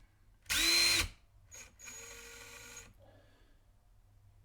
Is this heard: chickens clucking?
no